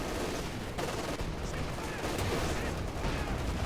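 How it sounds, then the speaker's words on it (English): Anti-tank guns open fire in a large 4v4 Company of Heroes 2 battle on the Port of Hamburg map, a continuous dense wall of gunfire and explosions, loud and steady, with tanks fighting amid the din. "And AT guns are just gonna start opening up fire"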